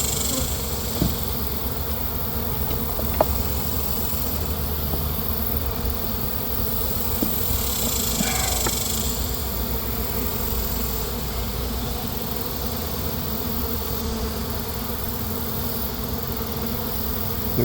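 Honey bees at a neglected hive on a remote property buzz in a dense, continuous drone, close and loud for the whole stretch, with a few faint clicks and no voices.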